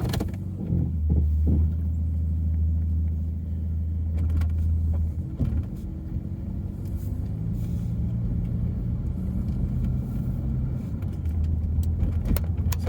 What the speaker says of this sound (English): So one thing you'll notice about this car compared to some is that slightly beefier exhaust sound.